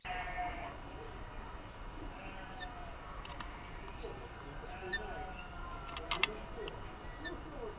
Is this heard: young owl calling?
yes